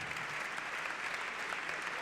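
An awards-ceremony audience applauds steadily throughout, a dense, even wash of clapping heard from within the hall at moderate volume, with a voice faintly underneath.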